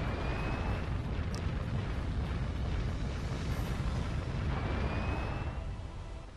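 Warship gunfire and explosions in the video game Warship Gunner 2, a dense, continuous roar of booming blasts and bursts with a couple of whistling shell sounds, loud and sustained without speech.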